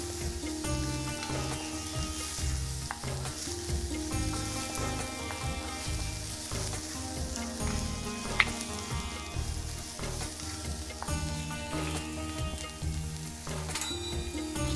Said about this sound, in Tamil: கருகப்பில் ரெண்டு கொத்து போட்டுருக்கேன் இது நல்லா வதகணும்